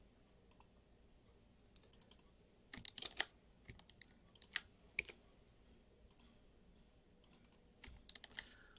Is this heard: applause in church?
no